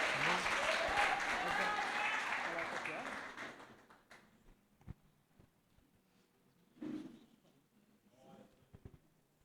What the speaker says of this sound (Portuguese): Aplauda o nome do Senhor Jesus mais uma vez